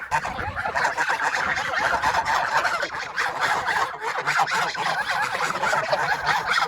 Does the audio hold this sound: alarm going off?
no